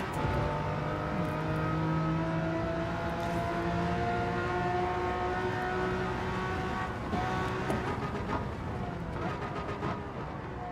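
A race car engine under sustained throttle in Gran Turismo 7, a steady loud drone with smoothly rising and falling tones, and a few quick gear-shift blips near the end.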